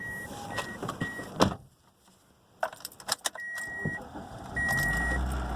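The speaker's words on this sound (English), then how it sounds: "we're gonna go ahead in the car, and we're gonna start it up." A used car being started: keys jangle and clatter, a short silence, then clicks and the engine catches and settles into a steady low idle near the end.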